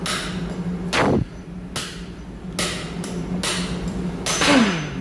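Hammering out a welded valve seat from an auxiliary generator engine's cylinder head: five sharp, loud metallic strikes spaced roughly a second apart, each ringing briefly, over a low steady background hum.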